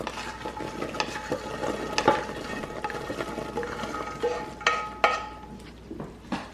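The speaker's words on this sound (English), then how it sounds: "you want to take your pecans and stir these in" Pecans stirred into a hot praline candy mixture in a high-sided pan, close uneven scraping and clacking strokes with a few sharper knocks, no talking.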